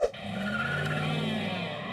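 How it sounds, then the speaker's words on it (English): A car doing a tire burnout, its tires screeching on pavement with a sustained, loud squeal over engine noise, preceded by a brief sharp onset. "if you're doing a tire burnout, i.e. screeching your tires on the pavement"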